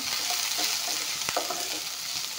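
Onion, carrot, ginger and garlic fry together in refined oil, giving a steady close sizzle with soft stirring scrapes and one sharp utensil knock near the middle.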